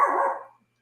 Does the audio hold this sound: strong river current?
no